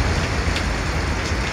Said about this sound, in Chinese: 大雨下不停